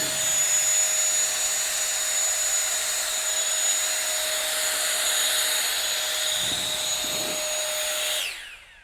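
A Tawugame cordless 750 W brushless leaf blower runs on turbo, a loud steady whooshing roar with a high motor whine that holds evenly for about eight seconds, then cuts off abruptly; no talking.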